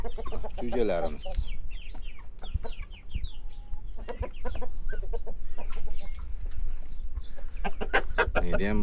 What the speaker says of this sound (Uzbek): Jo'jalarimiz.